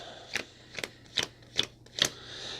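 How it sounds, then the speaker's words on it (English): Cards are riffled in five quick, crisp bursts, evenly spaced and close by, with near silence between them. "But what you're going to do is shuffle your cards"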